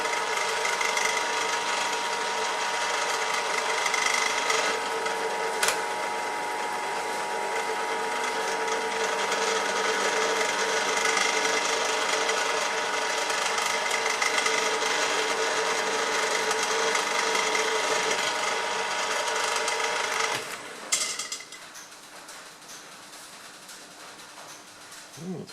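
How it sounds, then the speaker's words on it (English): A tapping chuck drives a straight shank tap to cut threads, a continuous whirring machine drone with grinding cutting texture that runs steadily for about twenty seconds, then cuts off abruptly, followed by faint clicks. "It seems to take a little bit more to put the straight shank tap down the holes"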